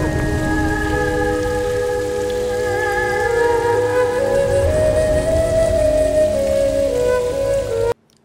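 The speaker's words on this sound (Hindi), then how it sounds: "आज ये बारिश ना थमे और तेज" Heavy rain pours in a steady, dense hiss during a TV drama scene, loud and continuous beneath sustained tonal background music, then cuts off abruptly at the very end.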